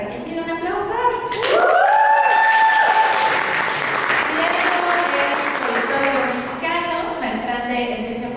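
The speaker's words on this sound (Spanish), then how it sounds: "La primera es Diego González Cabrera, para quien pida un aplauso." Audience applause for presenter Diego González Cabrera at a talk, a sustained wash of clapping that rises and holds, overlapping music-like tones and fading near the end.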